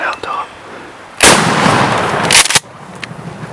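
One loud, close shotgun blast during a rainy-day roost hunt booms out and rolls off over a second or so, with faint voices around it.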